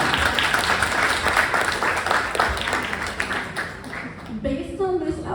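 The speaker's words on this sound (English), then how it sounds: "I'll let you clap." Stand-up comedy audience clapping in a dense, steady burst, with talk running over it and the applause thinning toward the end as a voice takes over.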